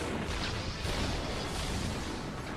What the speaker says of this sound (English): I forgot how crazy the Jupiter cannon is.